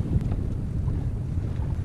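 Wind buffeting and water rush aboard a sailboat easing slightly off the wind, a steady low-pitched roar with no voices.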